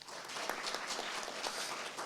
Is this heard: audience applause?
yes